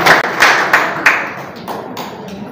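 Audience applause for an honoured guest at an official inauguration ceremony in Jakarta, starting as a burst of clapping with a few sharper accents and then fading out over a couple of seconds.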